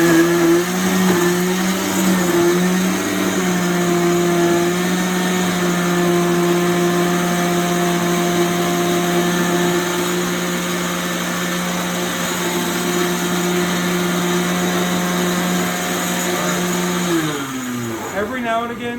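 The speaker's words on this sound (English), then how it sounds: "So put your blender on. Heads up, this is going to be really loud" A commercial blender puréeing acorn squash soup roars loudly and steadily with a high whine for most of the clip, then winds down and cuts out near the end.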